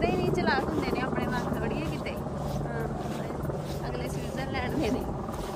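A helicopter flies high above Wengen, Switzerland, its steady rotor drone faint and distant beneath someone talking over it throughout.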